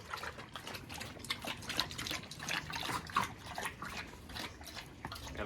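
Giant bully puppies drink fresh water from a bowl, producing faint, rapid wet lapping and splashing that continues steadily throughout.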